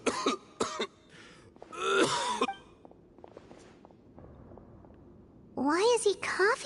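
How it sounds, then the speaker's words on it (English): A Genshin Impact character coughs in a few harsh bursts and a throaty rasp, close and fairly loud, with voices speaking around them over a quiet game background. "Why is he coughing so much?"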